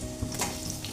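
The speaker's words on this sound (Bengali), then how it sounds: "পেঁয়াজটা একটু লালচে করে ভাজা হোক" Chopped onion hits hot oil in a pan with tempering spices, giving a brief, close, steady sizzle with light stirring scrapes, and no voices.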